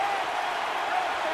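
Home crowd at a Carolina Panthers stadium in a Madden NFL 15 game against the Eagles, producing a brief, continuous roar of cheering at a steady level, with a faint tonal hum running underneath.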